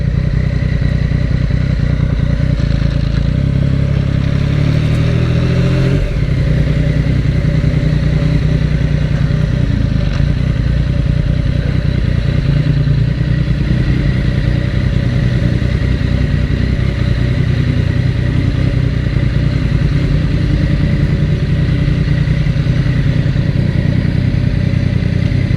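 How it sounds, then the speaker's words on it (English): A Yamaha MT-09 motorcycle engine runs loud and close throughout, a continuous low rumble with a brief rise in revs early on while riding toward a back alley to park. "I'm gonna park my bike at the back alley first"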